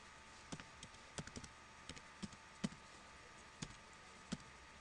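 Quiet, scattered keystrokes on a computer keyboard as a command is typed into a network device's command line, with irregular clicks and a few sharper taps spaced across the stretch.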